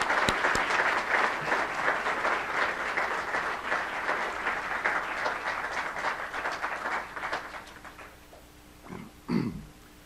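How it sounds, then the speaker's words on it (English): An audience at a State of the City address applauds city staff with dense, sustained clapping that fades toward the end, followed by a few faint voices. "So we give the city staff a round of applause."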